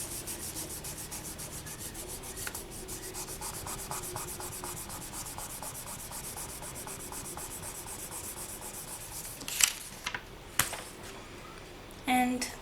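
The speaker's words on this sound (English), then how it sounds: "we'll just burnish that out to see how it looks" A polymer clay pendant surface being burnished, a soft rapid rubbing that repeats in steady strokes, closely heard, ending in a few louder knocks and handling sounds.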